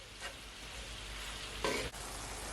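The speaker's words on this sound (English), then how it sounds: "I'm just gonna leave it to brown. I'm not gonna cover it." Ground beef for tacos browns uncovered in a pan, giving a soft, even, continuous sizzle with one brief louder burst near the end, faint and steady with no voices.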